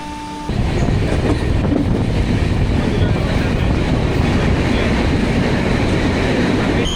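The Jamnagar–Tirunelveli Express on the Konkan Railway starts moving. A loud, steady rumble and rattle of the train rises abruptly after a brief quiet moment and continues with wind buffeting the microphone.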